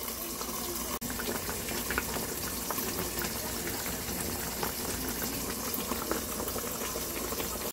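A pot of miyeokguk, Korean seaweed soup, bubbles at a steady boil. A continuous, close, dense bubbling hiss runs throughout with no breaks.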